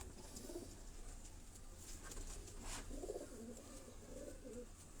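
Teddy-breed pigeon giving soft, low cooing calls, faint and intermittent against a quiet outdoor background with no talk.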